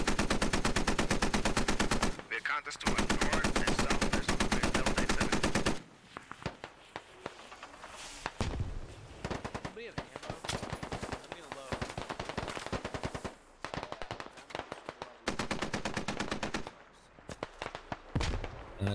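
Video game gunfire in the military shooter SquadOps: long bursts of rapid automatic fire, loud and close, broken by pauses and scattered single shots, with a voice talking at times.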